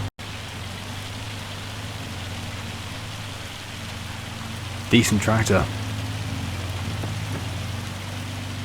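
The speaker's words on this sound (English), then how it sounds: "Bit of hail didn't hurt anybody." Hail and rain fall steadily in Farming Simulator 25, a constant hiss running through the whole stretch while someone briefly speaks over it.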